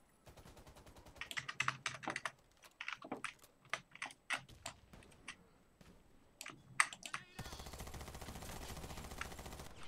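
Thompson M1928 submachine gun fire in Warface, delivered in short irregular bursts of sharp rattling shots with gaps between them, fairly quiet overall, followed by a denser stretch of background game noise toward the end.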